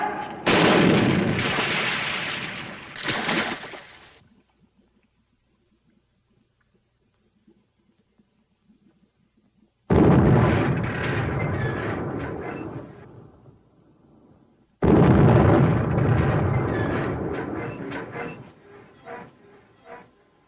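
Heavy gunfire from a 1943 wartime naval battle scene after a German command to fire, three long roaring bursts of booming shots separated by near-silent gaps, loud and close.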